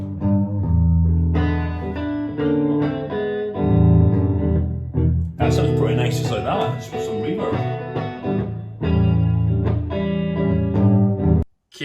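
Electric guitar through an old Marshall amp head with reverb added, distorted chords and a busier lead passage in the middle ringing out with a washy tail, loud and continuous before cutting off at the end.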